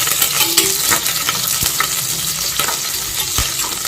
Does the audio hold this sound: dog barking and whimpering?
no